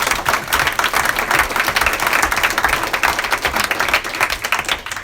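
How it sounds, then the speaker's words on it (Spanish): A church congregation gives sustained, dense applause for their pastor at a 2021 appreciation service, with many hands clapping loudly and evenly for the full five seconds. "Denle un fuerte aplauso a nuestro Dios, mis hermanos"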